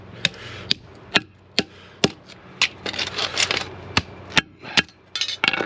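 A hammer strikes a scrap copper radiator, knocking the magnetic metal strip off the copper tubing, giving sharp, loud, evenly spaced metallic knocks with scraping and rattling between blows and no talking.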